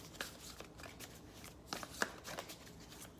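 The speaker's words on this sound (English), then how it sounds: "while shuffling the cards" A short bout of close, quiet tarot card shuffling, several soft riffles and crisp flicks in quick succession.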